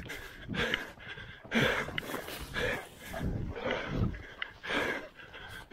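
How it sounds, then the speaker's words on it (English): Several loud, rough barks from a pig-hunting dog that has caught a feral pig in New South Wales, irregular and fairly close, mixed with outdoor rustling. "Just heard a big bark."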